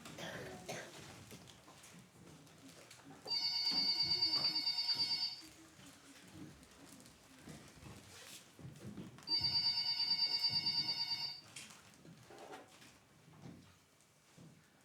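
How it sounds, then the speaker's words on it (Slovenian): A telephone at a theatre's management office rings unanswered in two long bursts of electronic ringing separated by a pause, over a noisy room with murmuring voices and movement. "In nihče ne dvigne telefona."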